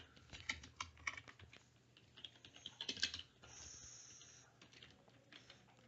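Keys clack on a computer keyboard as code is typed into a CSS stylesheet in a code editor, a quiet, irregular run of soft taps in short bursts with brief pauses.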